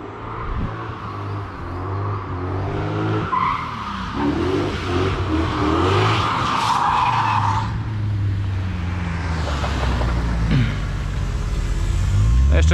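A BMW E34 drifting on a mountain road, with long tire squeals and skidding over a revving engine, loud and sustained throughout, and faint voices in the background.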